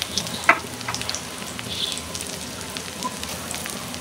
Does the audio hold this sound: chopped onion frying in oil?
yes